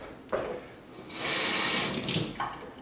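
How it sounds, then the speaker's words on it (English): Tap water runs into a kitchen sink while cut sweet peppers are rinsed, starting with a short splash, then a loud steady stream for about a second before stopping, close and without talking. "we're gonna have to rinse it a little bit"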